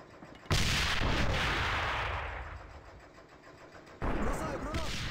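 Grenade blast in the shooter game AVA, a sudden loud boom that rolls off over a few seconds, followed by a second sharp burst, with players talking.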